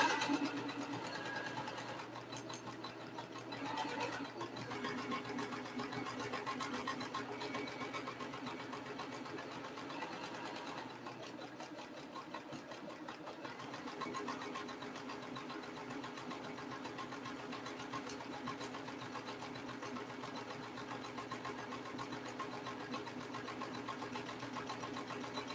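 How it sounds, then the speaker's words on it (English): A sewing machine stitching down the side of quilt block strips, its rapid, steady mechanical chatter running continuously and fairly quietly for the whole stretch without a break. "So I'm going to sew down the other side."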